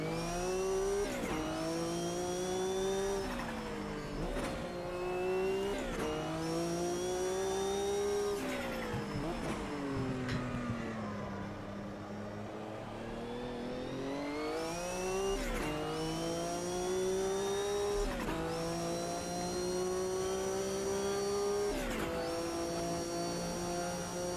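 Group C race car engine in Automobilista 2 revving up and shifting through gears repeatedly, the pitch climbing then dropping, briefly easing off midway before accelerating again.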